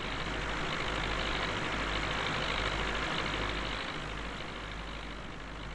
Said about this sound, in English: And I can jump on the baler maybe. This thing is so loud when you get into it.